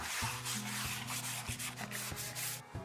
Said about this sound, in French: je termine avec un abrasif manuel dans les angles